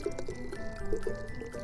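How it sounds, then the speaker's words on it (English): Water trickles and drips into the plastic water reservoir of a chemical-powered bottle rocket kit, a faint, light pouring sound with a few small splashes, close and without talk. "fill it up with water."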